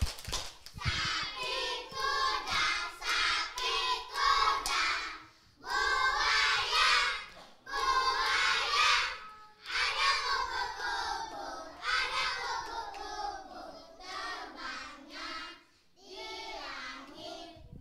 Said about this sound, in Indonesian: Sekarang kita tepuk hewan, masih ingat?